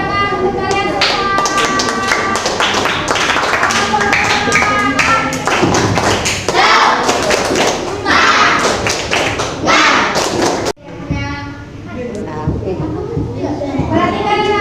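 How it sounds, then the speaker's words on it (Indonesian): Students in a junior high school classroom clap in a lively round of many hands that is rhythmic at times, then cut short and followed by a softer patter, with children's voices and chatter underneath. "Tepuk tangan untuk kalian semua."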